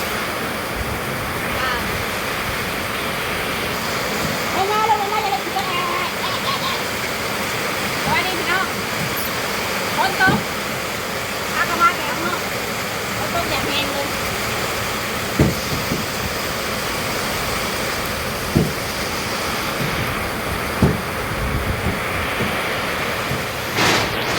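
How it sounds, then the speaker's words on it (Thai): Steady heavy rain from a storm in Laos with a broad hiss, occasional louder splashes and drips standing out from the constant downpour. "เปิดภาพมันก็เห็นบรรยากาศฝนตก"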